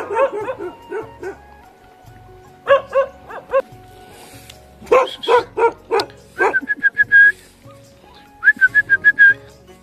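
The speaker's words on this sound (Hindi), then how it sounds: "यहाँ पे देखो ये कुत्ते कैसे भौंक रहे हैं" Dogs bark and yip repeatedly in a mountain village in Uttarakhand, in irregular bursts near and mid-distance, with whistle-like high tones and a few whimpers between barks.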